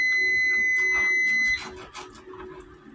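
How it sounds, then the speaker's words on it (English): A kitchen timer beeps in a steady, piercing high tone for about a second and a half, then cuts off, leaving faint kitchen clatter behind. "Now that the timer has gone off again"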